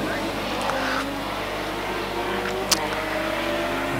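A race car in a North Island endurance series rushes past on the track, its engine note swelling and sliding in pitch as it goes by, heard at moderate distance with a sharp click near the end.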